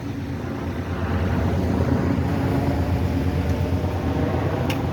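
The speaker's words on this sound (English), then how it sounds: "So they got choppers in the sky too" A steady low engine drone of helicopters overhead, a continuous rumble holding at even loudness throughout, with no voices.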